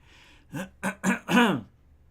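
Four short coughs in quick succession, the last one longer and harsher, close to the listener with nothing else around them.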